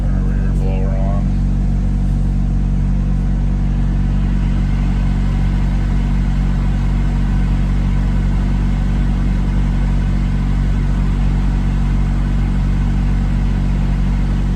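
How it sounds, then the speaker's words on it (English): Rear A/C blower fan running inside a GMC Yukon, heard as a loud, steady whooshing airflow with a low cabin rumble, continuous throughout with a brief faint chirp near the start. "Let's see what the turn our rear blower on."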